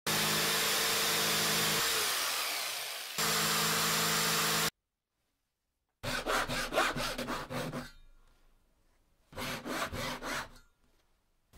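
Saw cutting through wood for a guitar neck in a workshop, with a long steady rasp, a silent gap, then rhythmic back-and-forth strokes in bursts.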